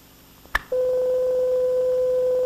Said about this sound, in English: This pure tone gives us the classic sine wave.